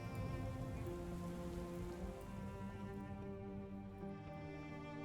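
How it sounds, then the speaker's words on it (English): Steady rain falls in the game Book of Hours, a soft continuous patter of drops on surfaces with a low rumbling bed beneath, even and unbroken throughout. "I love the rain."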